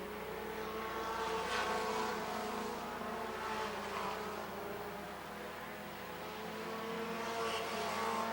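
Stock cars racing around Rockford Speedway at a 1996 championship night, a continuous loud engine roar that swells and fades as the field passes, with crowd and track ambience underneath.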